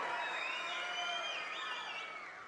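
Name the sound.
crowd clapping and cheering at a public meeting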